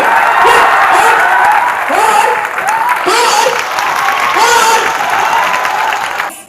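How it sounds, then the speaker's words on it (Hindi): Sustained audience applause for the seated guests at a gathering fills the room, steady and loud throughout, with a few rising whoops or cheers carried over the dense clapping. "उनके लिए क्यों ना तालियां बजा लीजिए"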